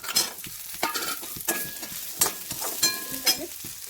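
Potatoes tossed into hot oil for a tempering of moong dal, sizzling and crackling steadily while a spoon scrapes and stirs the pan in repeated bursts, close up with no talking.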